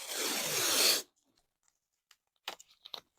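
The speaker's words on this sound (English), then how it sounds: "you want to get your painter's tape out" Blue painter's tape is pulled off the roll in one short, close ripping strip, followed by faint scattered taps and crinkles of handling.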